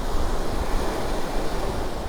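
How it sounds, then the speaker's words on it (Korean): Ocean waves break on the beach at Uljin on the Gyeongbuk coast of Korea, heard from a seaside café as a steady, full roar of surf with some wind noise and no pauses. "파도소리 시원시원하다."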